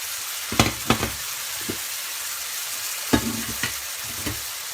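Tantuni meat sizzles in a frying pan as water is added, a steady hiss of frying broken by several sharp scraping stirs, close and moderately loud with no voices.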